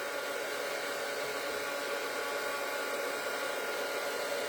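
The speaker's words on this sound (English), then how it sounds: "I have to heat up my heat gun, and then I'm going to use it" A heat gun warms up with a steady, loud, continuous blowing whoosh, unbroken and close, with no one talking over it.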